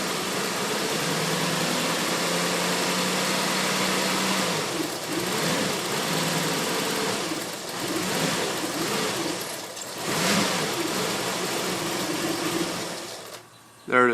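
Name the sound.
Lexus SC400 engine rough idle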